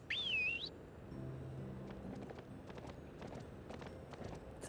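A rising whistle followed by a horse galloping with quick, steady clip-clop hoofbeats in a Barbie horse-adventure video game, set against faint ambient game sounds.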